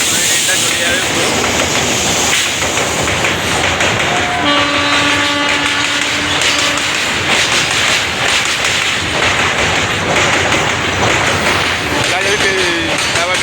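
A goods train passes by Balighat railway station with a loud continuous rumble and clatter of wagons, a horn sounding partway through, while a person talks over the noise.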